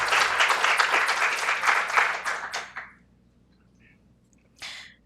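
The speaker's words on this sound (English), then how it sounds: "Please welcome our group with a round of applause" An audience at a student conference forum applauds to welcome the presenters: dense, steady clapping for about three seconds that tapers off, then silence and a brief final burst of claps.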